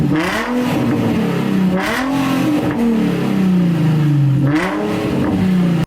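A rear-wheel-drive Japanese sports car engine revs hard in repeated rising and falling sweeps, loud and close, with throaty bursts between pulls and no talking.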